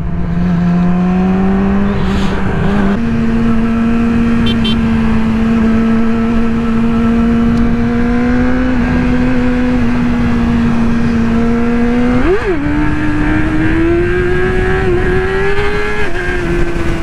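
A sport motorcycle's engine revs and drones loudly and close by, its pitch rising and falling steadily, with a sharp brief rev spike near the end and crackling exhaust pops.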